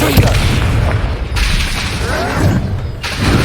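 Expulso explosion spell from the Hogwarts Legacy video game, loud booming blasts with thuds and crackling debris in quick succession, filling the whole clip.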